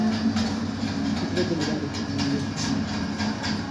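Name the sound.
miniature electric model train running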